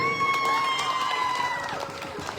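An audience claps at an Islamic quiz competition, a steady spread of hands over a sustained electronic tone, fading slightly toward the end.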